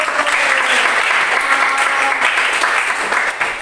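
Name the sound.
audience applause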